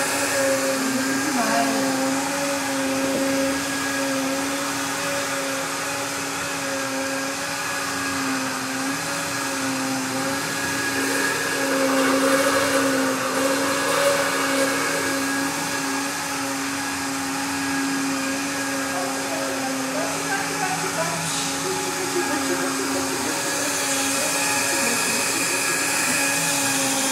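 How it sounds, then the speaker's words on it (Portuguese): A kitchen blender runs continuously while blending a dessert, a steady loud motor whine with a constant pitch and little variation throughout. "Esse liquidificador é muito bom, gente."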